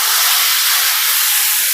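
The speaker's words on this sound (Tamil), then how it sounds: "கரைச்சி வச்சுருக்க குழம்பை சேர்த்துடலாம்." Tamarind gravy for a fish curry is poured into a hot pan and hisses at once. The sizzle is loud, close and continuous and holds steady for its whole short length.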